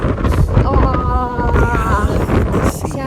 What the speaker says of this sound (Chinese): 现在这边呢就有台风，所以风非常的大。